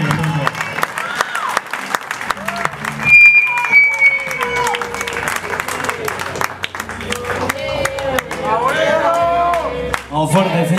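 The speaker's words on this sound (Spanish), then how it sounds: "Guillermo Sánchez, un aplauso gigante, pero gigante para el negro, loco." A crowd claps and cheers loudly while someone shouts excitedly over the applause, which continues throughout.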